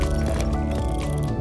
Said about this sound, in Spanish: Globo de agua, zas.